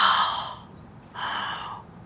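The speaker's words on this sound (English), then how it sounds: "So just exhale from your mouth as if you're fogging up a window." Two audible throat-constricted breaths during prenatal yoga: a hissing, airy exhale through the mouth, a short pause, then a second drawn breath of similar husky texture, close and clear.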